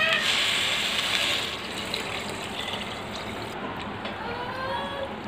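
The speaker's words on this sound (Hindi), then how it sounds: "अब इसमें ऐड करेंगे पानी।" Water pours steadily into a cooking pot while a vegetable khichdi is being prepared, a continuous close splashing rush that eases slightly partway through.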